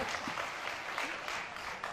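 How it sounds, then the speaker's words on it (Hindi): Audience at a comedy night at GCT Layyah applauding steadily, a dense even wash of clapping from a crowd with no break. "ताली हो जाए ना इमरान खान के लिए भी।"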